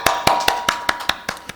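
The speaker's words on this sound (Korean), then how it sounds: "여러분 박수 한번 치고" A church congregation claps together in a steady, evenly spaced rhythm, about eight sharp unison claps over less than two seconds, close and clear with no talking.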